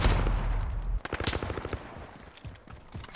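Rapid gunfire from a Bizon submachine gun in Modern Warfare, a loud dense burst up front giving way to scattered sharper shots and clatter that fade toward the end.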